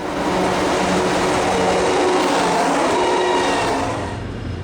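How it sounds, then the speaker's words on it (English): A pair of GP35 diesel locomotives running light eastbound through Antioch pass with a loud, steady engine and rail roar that fades a little at the end. "A pair of GP35s are running light through Antioch heading east."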